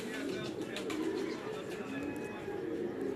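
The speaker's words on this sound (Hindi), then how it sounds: "ये जानसा वाले कबूतर हैं माशाल्लाह जी" Jansa pigeons on a Lahore rooftop coo in a low, steady murmur that runs through the whole stretch, with faint background noise and no clear voices.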